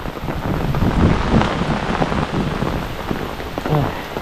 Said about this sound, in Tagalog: Silong muna tayo dito. Lakas po ng ulan.